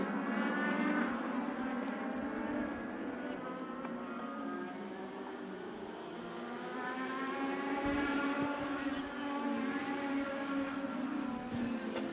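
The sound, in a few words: race cars racing at Havasu 95 Speedway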